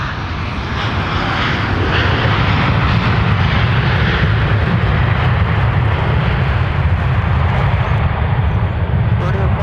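A Delta airliner arriving from Cancun lands at Minneapolis–Saint Paul airport, a steady, loud, rumbling engine roar that holds throughout, with wind-like noise over it.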